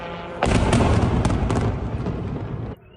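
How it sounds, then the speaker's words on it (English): A heavy blast erupts suddenly in a city under drone attack in Kharkiv, with a loud sustained roar and sharp cracks running through it for about two seconds before cutting off. "Explosions are heard in 2 districts of the city at once."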